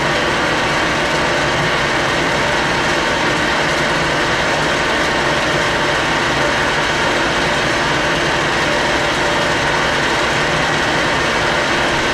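Drilling holes with a 6mm split point drill bit at 500 RPM in a motor mounting plate: a steady, dense mechanical whir and grind that continues unbroken and loud throughout, with no voices.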